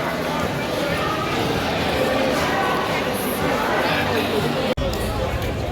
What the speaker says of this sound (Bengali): দেখো ভিড়